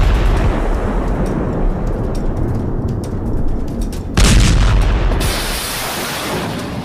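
Missile explosions in a naval clash involving a US warship, heard as a loud, continuous roaring rumble with a sharp surge in blasting noise near the end, with no voices.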